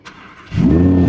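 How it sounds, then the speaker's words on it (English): An Audi R8 V10 supercar fires up at a racetrack, a brief starter whir giving way to a loud, close engine catch and a steady, throaty idle roar. "Fire up the car"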